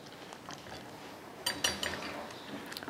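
A spoon scrapes and clinks faintly in a pot of simmering strawberry and cornstarch cheesecake topping, a short cluster of soft metallic taps near the middle against a quiet kitchen background.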